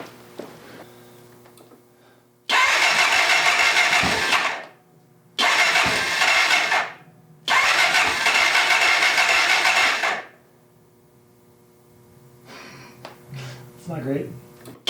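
A Honda XR650L motorcycle engine is cranked in three long, loud bursts separated by short pauses, followed by quieter engine and mechanical noise as a voice talks briefly at the end.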